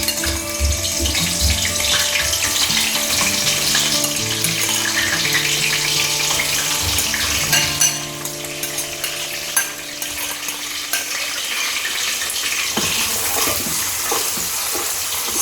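Sliced onion hitting bleached palm oil for Nigerian ofada stew, a loud, continuous frying hiss that eases slightly partway through, with occasional stirring, no voices.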